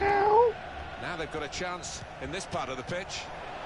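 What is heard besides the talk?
cat meowing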